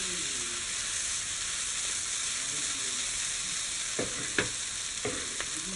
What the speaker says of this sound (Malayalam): ഇനി ഇത് ഇളക്കി കൊടുത്തുകൊണ്ടിരിക്കാം.